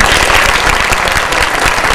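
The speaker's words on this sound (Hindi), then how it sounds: "एक बार उनके सम्मान में तालियां बजा दीजिए।" Dense, steady applause from a crowd, loud and close, continuing without a break throughout.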